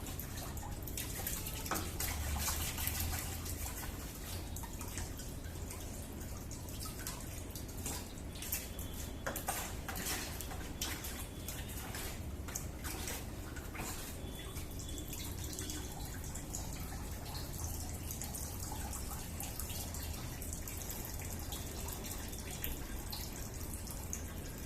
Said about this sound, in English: so I'm going to have to wash